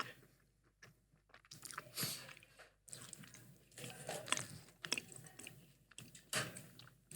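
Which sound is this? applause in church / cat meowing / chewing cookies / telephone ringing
chewing cookies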